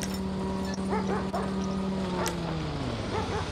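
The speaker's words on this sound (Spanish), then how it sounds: "Uy, mirá, hay un perro, amigo." A dog in a roleplay video game barks and yips in short bursts, fairly faint under a steady droning background tone, a few quick calls scattered across the moment with no clear talking.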